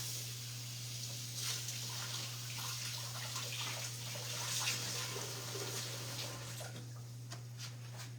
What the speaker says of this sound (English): I'm gonna rinse these leaves off.